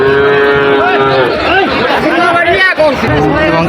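Bullocks lowing and mooing at a cattle market in Joypurhat, Bangladesh, amid a busy crowd, with many people talking loudly nearby in a constant outdoor hubbub.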